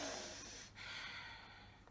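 Slow, calming breaths drawn in and let out, soft and close, a single long airy inhale-exhale with no other sounds.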